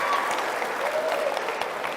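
Audience clapping at a comedy talk fills the room as a dense, steady wash of applause from many hands, loud and continuous throughout, with no voice over it.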